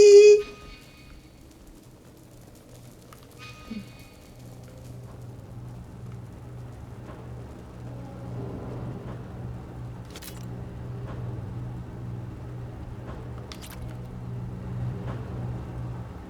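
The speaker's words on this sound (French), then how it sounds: "Oh, c'est en train de me défoncer les oreilles, le moteur, là." Engine drone in the video game Mass Effect 2, a steady low hum that swells gradually over the whole stretch, with a brief sharp sound at the start and faint clicks above it.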